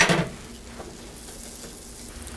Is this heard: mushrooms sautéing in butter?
yes